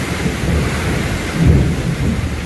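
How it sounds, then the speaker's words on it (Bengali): Thunder rumbles low and heavy over steady rain at a jungle safari resort in Pench National Park as evening darkens, with a swell of thunder near the middle. "অন্ধকার করে বাজ পড়ছে এবং বৃষ্টি হচ্ছে।"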